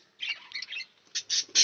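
Pet budgies squawk in a cage indoors, a few close, harsh high calls in short bursts with brief pauses between them, fairly faint overall.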